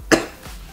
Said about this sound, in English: But that's making me cough pretty hard